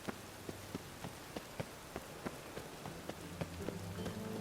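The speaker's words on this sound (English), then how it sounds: "Looks like rain." Steady rain falls in The Witcher 3 video game, a dense hiss of drops with scattered sharper patters, continuous throughout and with no speech over it.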